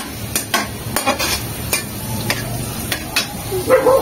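Beef being cooked in butter in a pan with garlic and Parmesan: a soft continuous sizzle broken by sharp utensil clicks and scrapes against the pan, close by.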